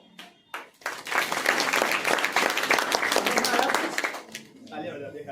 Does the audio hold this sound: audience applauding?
yes